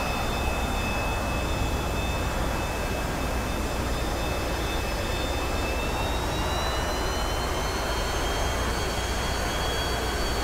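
A T-45C jet taxis slowly across a cramped aircraft carrier deck in a flight simulator, its engine giving a steady, loud turbine roar with a constant high whine above it and no pauses.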